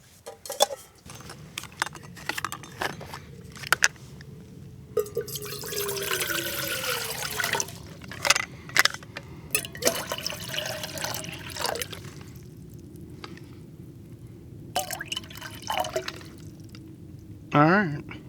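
Water pours into a camping pot set over a campfire in a state forest, a splashing rush of several seconds with bits of clinking gear, while someone talks nearby.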